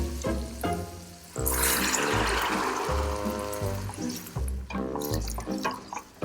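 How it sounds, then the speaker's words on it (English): White wine pours from a bottle into a pan for cooking mussels, a near, burbling splash that swells for a few seconds, then gives way to lighter gurgles and drips. "And now I'm going to add my white wine"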